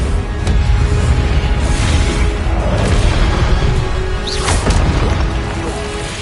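A Confringo spell explosion in Hogwarts Legacy, a loud booming blast whose rumbling roar carries on for several seconds.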